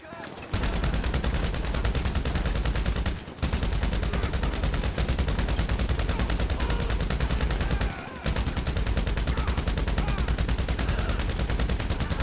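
Gunfire in GTA Online, rapid continuous automatic bursts that are loud and close, broken by two brief pauses.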